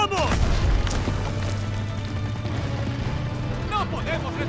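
A WWII video game battle against a Tiger tank, with heavy booming explosions and bursts of gunfire under urgent shouted Spanish dialogue, the loudest blasts near the start and the firing continuing at intervals.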